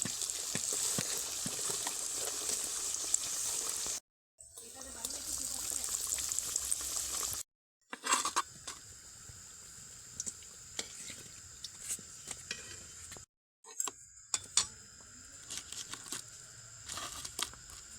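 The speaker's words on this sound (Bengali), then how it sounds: "একে একে মা ভাজছে আর নামাচ্ছে" Potato and Maggi noodle snacks deep-fry in hot oil at home, giving a steady bubbling sizzle broken by a few abrupt silent cuts.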